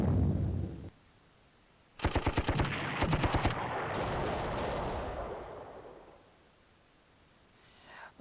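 Rapid machine-gun bursts from a wargame unit attacking an anti-aircraft battery in Panzer Corps, a loud rattling volley of evenly spaced shots lasting about a second and a half, followed by a sustained rumbling wash that fades.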